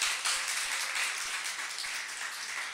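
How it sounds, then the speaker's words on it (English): Audience applause at a civic engagement day event for the city's disability commission, a steady broadband wash of clapping holding at even loudness throughout, with no speech over it. "So let's give her a round of applause."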